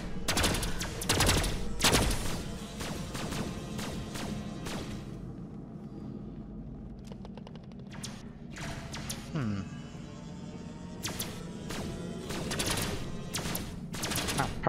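Rapid gunfire rattles in bursts during a multiplayer session of the sci-fi game Pulsar: Lost Colony, loud and close with heavy thuds, then repeated shots later, while people talk over the shooting.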